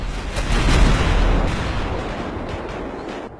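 An RPG firing in a cartoon battle scene, a heavy booming blast with rumbling low end that swells and then slowly fades over a few seconds, loud and without voices.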